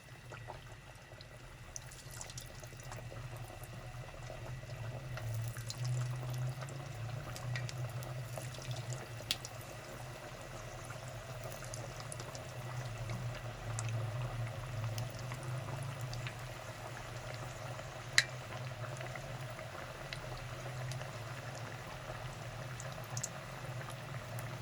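Sweet tikiyan, small flat dough rounds, sizzle and bubble steadily in hot frying oil in a home kitchen, a constant close hiss with occasional faint clinks and no speech.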